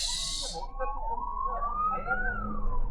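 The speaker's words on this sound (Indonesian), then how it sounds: "Oh, ada ambulans." An ambulance siren on a road at night, heard from inside a moving car, its wavering tone rising and drifting over engine and road noise, moderately loud and passing by.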